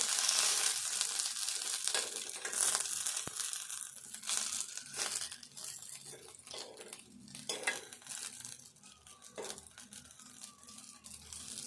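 Green chilies frying in a pan for a Telangana chili pickle, crackling and sizzling in irregular bursts with occasional crinkly pops, fairly quiet and close, no talking.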